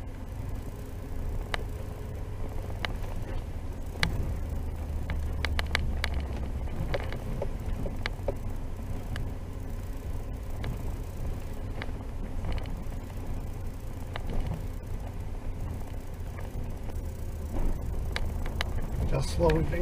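Truck crawling slowly uphill in second gear on a mountain forest road, a low, quiet engine hum running steadily beneath the cab, with clicks and rattles and a person talking now and then.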